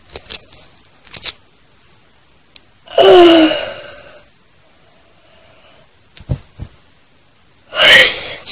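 A long, drawn-out human yawn in a morning vlog, rising into a loud breathy stretch that lasts over a second and fades, with a second shorter loud breath near the end and scattered small clicks and rustles between.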